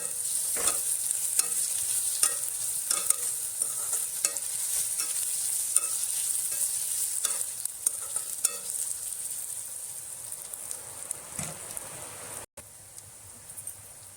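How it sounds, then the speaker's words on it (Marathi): Ginger, garlic and green chili paste sizzles steadily as it is sautéed in a pan for a Marathi monsoon kantoli vegetable dish, with a spoon scraping and stirring at irregular moments. "आलं लसूण पेस्ट चांगली परतवून झालेली आहे."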